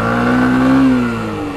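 A Bajaj Platina 110 motorcycle engine pulls away from a start with two riders aboard, a steady mid-pitched drone rising slightly then easing off, close and fairly loud, with no talk over it.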